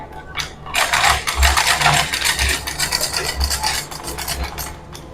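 A sewing machine runs in steady close bursts of rapid mechanical stitching, with rhythmic thumps underneath, brief pauses between runs and no talking.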